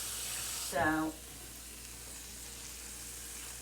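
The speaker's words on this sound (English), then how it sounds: "Now I'm going to put some water in here anyway." Water splashes briefly into a cooking pan, with a short sizzle as it hits, while chicken, pasta and vegetables cook with garlic and Italian seasoning; a voice says a single word and then faint kitchen background follows.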